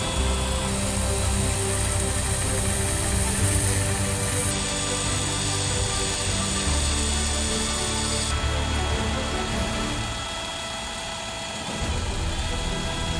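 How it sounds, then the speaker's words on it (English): A cordless DeWalt drill spins a workpiece as a homemade lathe, giving a steady whirring motor drone with a scraping, grinding texture throughout, dipping briefly near the end. "Introducing the cordless DeWalt homemade lathe."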